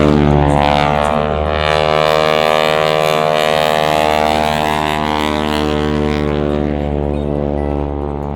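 Loud, droning propeller engine of a 1940s Super Stearman trainer biplane passing close overhead at an air show, a steady harmonic roar that shifts slightly in pitch as it goes by.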